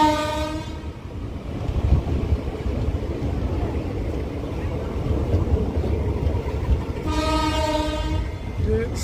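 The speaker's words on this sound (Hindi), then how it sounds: "ये साबरमती एक्सप्रेस है जो गुजरात को ऊना हिमाचल के साथ जोड़ती है।" The Sabarmati Express pulls into Una station in Himachal, loud and close, its horn sounding at the start and again near the end over a continuous rumble and clatter of rolling coaches.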